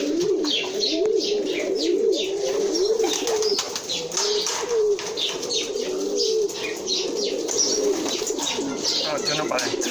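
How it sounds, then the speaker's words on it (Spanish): Pigeons coo steadily in a crowded loft of thief-pigeon breeding birds, a continuous overlapping murmur of low cooing with chirps and occasional wing flaps, loud and near. "Esta paloma es súper arisca, se puede escapar tranquilamente."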